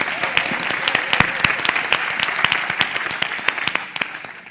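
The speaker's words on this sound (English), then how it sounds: "Everyone, big round of applause, encouragement for Robert!" A crowd at a tech conference stage gives a presenter lively, sustained applause, with many sharp individual claps standing out in the dense sound before it fades slightly at the end.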